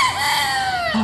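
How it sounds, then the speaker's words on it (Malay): A single rooster crow rings out loud and close: one strained, drawn-out call that slides downward and ends with a short, lower cluck-like note. "Macam mana bunyi ayam?"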